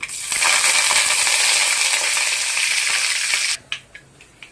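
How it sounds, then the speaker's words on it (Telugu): Curry leaves hit hot tempering oil for a Telugu broad bean pickle, bursting into a loud, dense crackling sizzle that holds steady for about three seconds, then cuts out into a few sharp spatters and quieter pops. "ఇప్పుడు మనం కరివేపాకును కూడా యాడ్ చేసుకోవాలి"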